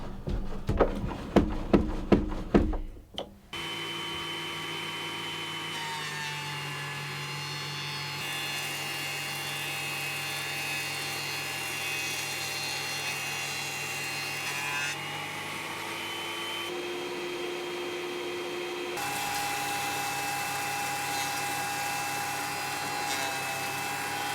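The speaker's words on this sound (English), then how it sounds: "I can now get these bits planed down, just to clean up the bits for the shelves" Electric wood planer droning steadily as it planes boards for display shelves, a loud sustained whine that shifts in pitch between passes, after a few sharp knocks at the start.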